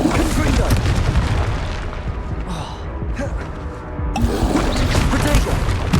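A Confringo explosion spell bursts during Hogwarts Legacy combat as a deep, booming blast. It sits amid dense battle noise and shouted voices, then fades before the fighting swells again.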